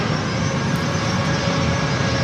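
A United airliner's jet engines roar steadily on runway 27 at San Diego airport, a loud, continuous broadband rumble with no break for the whole moment.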